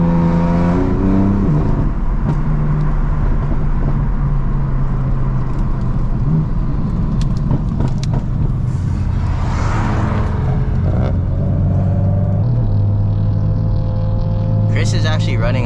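BMW F8X fitted with an MHD GTS tune, driven on back roads, giving a loud, continuous exhaust drone with revving swells and crackling burbles, and voices talking over it.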